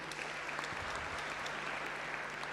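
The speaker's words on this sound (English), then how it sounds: "Can you give him a round of applause?" An audience applauds at a business school graduation ceremony, a steady, even wash of clapping heard from some distance, with no talk over it.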